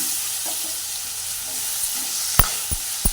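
Chopped small tomatoes frying with onions in a pan for chicken curry make a steady, soft sizzle, with a few sharp clinks of stirring late on and no voices.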